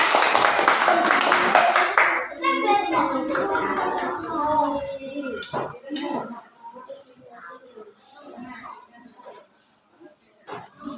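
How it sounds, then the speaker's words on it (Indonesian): Students in a classroom applaud group 4, a burst of dense clapping for about two seconds that quickly gives way to children's and adult voices talking. "Silakan untuk kelompok 4 beri tepuk tangan supaya semangat."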